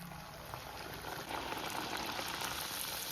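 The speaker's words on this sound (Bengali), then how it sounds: "এভাবে সব একটা একটা করে ভেজে নেব" Steady bubbling and sizzling of hot oil as naan dough fries, a constant hissing fry with no talking, moderately quiet and close.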